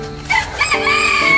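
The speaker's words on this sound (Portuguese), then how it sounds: "Esse galo cantando aqui tá assustando nós também" A rooster crows nearby in a single loud, ragged crow that rises and stretches across the whole short moment, with some clucky breaks in it.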